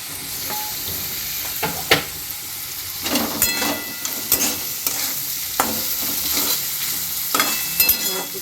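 Green peas, salted and lightly sugared, are stir-fried in a wok for fried rice, a continuous hissing sizzle broken by repeated scraping strokes of a spatula against the pan.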